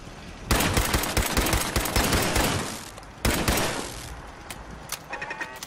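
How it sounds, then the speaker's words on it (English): Machine gun turret in Fallout 4 firing loud rapid bursts, two long sustained volleys separated by a brief pause, followed by a few scattered shorter shots. "Now where's that other machine gun turret?"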